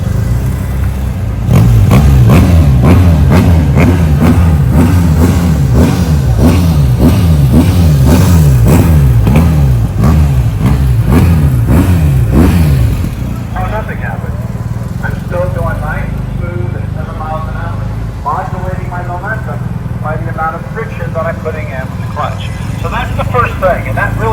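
A motorcycle engine revs hard with throttle in a pulsing roar for several seconds, then drops to a rougher idle putter, loud and close.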